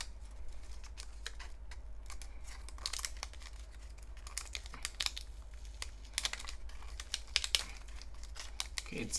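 Protective plastic foil is peeled and crinkled off a small CMF Buds Pro 2 earbuds package, giving faint, close, intermittent crackling and tearing over a quiet low hum.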